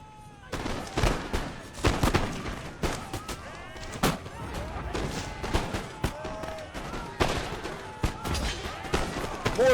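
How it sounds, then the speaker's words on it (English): Musket volleys and scattered gunfire in an Empire: Total War battle between British and Ottoman lines, irregular cracks and thumps at mixed distances, with a voice talking over them. "keep engaging the Ottoman at distance, because they can shoot way more rounds into that Ottoman line"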